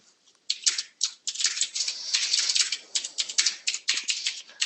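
A noisy computer keyboard is typed on in a fast, steady clatter of close, sharp clicks, with short pauses between bursts of keystrokes.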